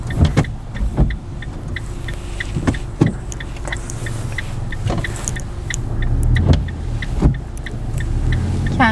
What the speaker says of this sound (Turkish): Şimdi sola sinyal verip alandan çıkış yapıyorum.